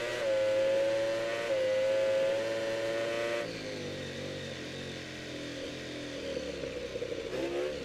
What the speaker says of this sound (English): Or listen to that Ducati